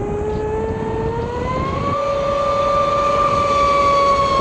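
A Sonicwake RC boat on 6s power with a Castle 1650kv motor runs at full throttle, a loud steady high-pitched electric whine rising in pitch as it speeds up, with water rush underneath, no voices.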